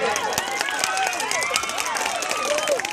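Audience at a Thai stage performance gives a burst of loud, steady applause, mingled with whoops and whistles from the crowd throughout.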